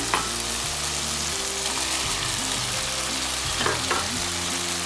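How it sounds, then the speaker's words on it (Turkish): Chopped peppers for chicken fajitas sizzle loudly and steadily in a hot pan, a continuous crackling fry with a couple of sharper pops. "Şimdi ben bunun üzerine bu şekilde doğradığımız biberlerimizi atacağım."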